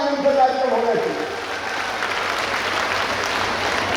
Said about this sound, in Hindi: जरा जोर से ताली बजाओ, आनंद से कार्यक्रम होना चाहिए